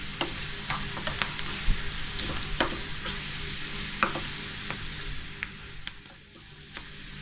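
Curry leaves and onion tempering in hot oil for a drumstick-leaf dal, a steady close sizzle with scattered sharp crackles and pops and occasional stirring scrapes, no voices.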